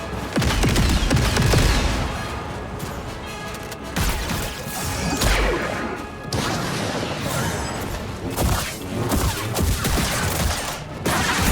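Rapid bursts of blaster-style gunfire from the Star Wars Jedi Survivor video game, loud and dense, with crashing impacts throughout and no clear speech.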